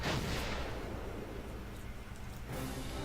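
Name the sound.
explosion from a tank attack in the Valkyria Chronicles video game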